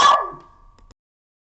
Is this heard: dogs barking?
yes